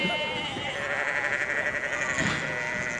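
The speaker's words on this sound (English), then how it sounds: "that's what a sheep sounds like." A sheep bleats in a drawn-out, wavering call over a constant background hum, fairly close and steady throughout.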